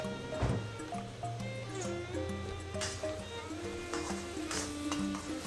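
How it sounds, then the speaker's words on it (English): Prawns frying in black bean sauce with dark soy sauce are stirred in a pan, giving a steady close sizzle with soft wet scraping and squishing as the spoon moves, under background music. "Give them all a good stir."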